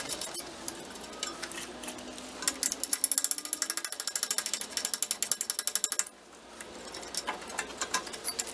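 A ratchet wrench cranks on the front brake bolts of a 2002 Honda Civic Si EP3, loud close rapid clicking in steady runs that pause briefly, then resume more slowly.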